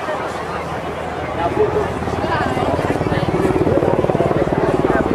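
Rescue helicopter from the 106th Rescue Wing hovering nose into the wind at the 2008 Jones Beach Airshow, a steady rumbling rotor throb that swells slightly louder toward the end, with someone talking over it throughout.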